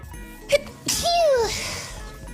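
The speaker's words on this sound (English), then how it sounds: "That sneeze literally left me tingly everywhere." A single loud, close sneeze from a man, a short sharp intake followed by an explosive burst with a trailing vocal tail, heard alone without other talk.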